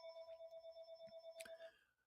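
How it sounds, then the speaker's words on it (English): A telephone rings with a rapid warbling electronic trill that pulses steadily, then stops abruptly and fades; it is quiet, with no talking over it. "there's the phone."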